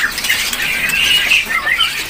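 An imported African Sanger bird, offered at a bird market with a fungus-like condition on its feet, gives harsh, continuous squawking and chattering calls, loud and close, with no voices over it.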